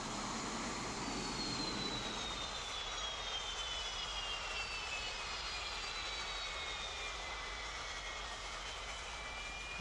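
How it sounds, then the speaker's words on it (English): A simulated aircraft engine in a flight simulator game spools up with a steady, loud roar and a rising-then-falling high whine, continuous and alone. "Alright, my engine's going up."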